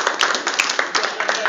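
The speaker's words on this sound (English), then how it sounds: "so let's give them a big round of applause" A school audience at an anti-bullying assembly claps and applauds, a dense, loud patter of many hands, with speech mixed in over the short burst.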